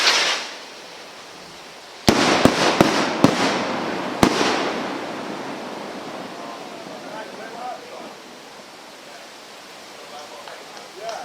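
Firework rockets and cakes going off at a fireworks demo, with a cluster of sharp loud bangs and crackles followed by a long fading rumbling crackle, outdoors and fairly close.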